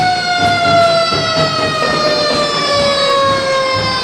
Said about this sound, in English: you can hear the sirens roaring from the Brownsville Fire Department number 1